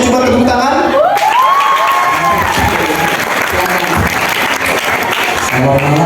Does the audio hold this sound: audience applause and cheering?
yes